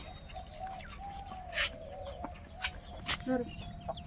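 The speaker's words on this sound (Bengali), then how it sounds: "এ মুরগি বাইরে বেরিয়ে গেল কি করে" A chicken clucks in short bursts around a rural household yard, with other fowl calling faintly and quiet ambient background.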